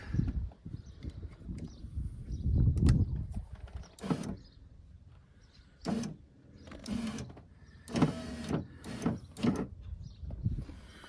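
Rear electric window motor on a Jeep Grand Cherokee WJ whirs in several short bursts, close and fairly loud, with rattling mechanism noise and quieter handling sounds between runs.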